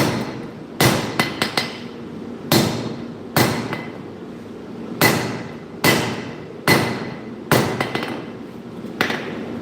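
A nakiri knife blade is hand-forged under a hammer: a quick cluster of taps, then a steady run of about ten heavy, ringing blows roughly one per second, each decaying briefly before the next.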